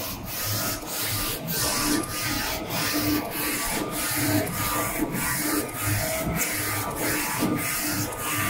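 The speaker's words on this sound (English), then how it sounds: "Then we can see the printer start to print white ink" A DTF printer, a Focus Nebula 42F, prints a white ink layer with a rhythmic, regularly repeating mechanical sweep, about once per second, over a steady whirring hum.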